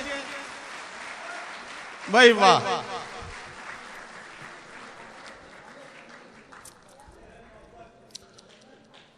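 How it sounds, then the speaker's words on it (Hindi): A crowd at a mushaira poetry gathering in Thane applauds to welcome arriving women guests, a low, steady clapping under a man's loud exclamation of praise and some scattered voices. "जोरदार तालियों से इनका इस्तकबाल कीजिए"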